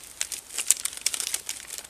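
Plastic chocolate bar wrappers crinkle and rustle in a string of bright, irregular bursts as they are unpacked close by, with no talking.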